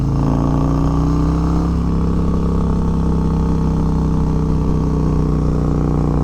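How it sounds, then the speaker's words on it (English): A Harley-Davidson M8 Bagger with an S&S Sidewinder 2-into-1 exhaust idles with a deep, throbbing exhaust rumble, steady and close, with a slight shift in pitch partway through. "you can kind of hear the exhaust"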